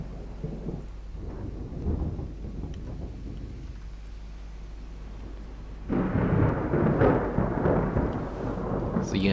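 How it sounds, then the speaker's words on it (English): Thunder rumbles during a storm in the naval video game Ultimate Admiral Dreadnoughts, a low rolling roar that swells louder about halfway through, with rain and wind noise beneath. "I think there's a storm brewing."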